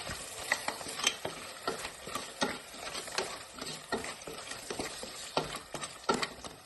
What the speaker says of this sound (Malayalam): ഞാൻ 1/2 കിലോ ക്രാബാണ് ചേർത്ത് കൊടുക്കുന്നത്. നന്നായിട്ടൊന്ന് മിക്സ് ചെയ്ത് കൊടുക്കാം.